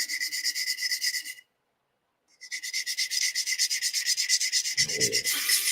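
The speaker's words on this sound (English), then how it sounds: "Fret leveling beam." A plastic sprue part from a Klingon D7 cattle bruiser model kit is rubbed along a fret leveling beam in quick, even back-and-forth strokes, pausing for about a second before the rasping scrape resumes, close and clear.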